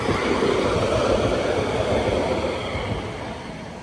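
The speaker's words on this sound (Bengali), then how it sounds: "দেখুন ট্রাম যাচ্ছে এটা হচ্ছে ট্রাম" A two-car tram rolls along a rail-like track through dense forest in Moscow, a loud, steady rumble nearby that eases slightly toward the end.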